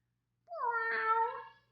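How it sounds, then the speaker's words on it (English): A single clear meow from a cat, rising then falling and lasting about a second, close and alone against a quiet background. "Priscilla meowed for you, replied Oliver"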